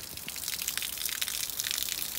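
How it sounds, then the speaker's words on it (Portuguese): Water spills steadily from a small spring spout beside a beach trail, a close, continuous splashing trickle with no voices over it. "E a biquinha que eu falei de água que tinha"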